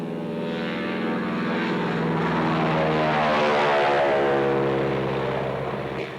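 A 600-horsepower Pratt & Whitney R1340 radial engine drives a 42.5-foot-wingspan agricultural biplane at an airshow in Wanaka, New Zealand, giving a loud, steady propeller drone that swells slightly and holds close throughout, with no voices.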